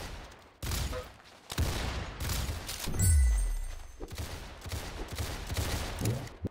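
Gunfire in the video game Arsenal on hard mode, with several loud, close bursts of shots and one heavy booming impact in the middle, repeating through the clip.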